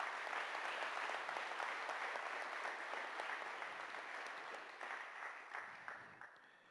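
A crowd at a community hearing in Hobbema, Alberta claps steadily, dense and sustained, gradually tapering off with a few last scattered claps.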